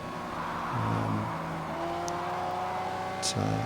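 Steady racing car engine drone in the video game Project Cars 2, with gear-change shifts and revving, close and continuous, with faint voice underneath.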